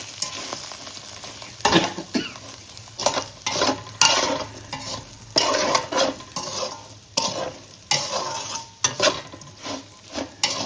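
A spice mixture for dondakaya fry is stirred and fried in a pan with the stove switched off. A utensil scrapes in steady, repeated strokes over a soft sizzle, fairly close and with no talking.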